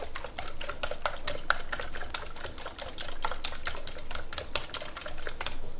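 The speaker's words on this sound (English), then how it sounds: "we're gonna go ahead and mix up those eggs. Get those good and mixed with that milk, the salt, and the pepper" Eggs being beaten with milk, salt and pepper for a breakfast casserole, a fast steady run of close clicking whisk or fork strikes against a bowl, continuing without pause and with no talking.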